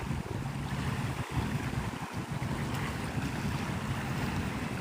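Water of Santa Rosa Sound at Navarre, Florida, gives a steady broadband wash of small waves mixed with wind rumble, with a couple of low thumps against the mic, no voices.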